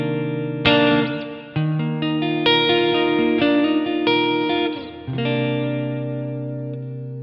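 An electric guitar played through the delay effect of a Line 6 POD HD400 multi-effects unit rings out in sustained, layered chords. Each new strum blends into the repeating tails of the last one, with no talking over it.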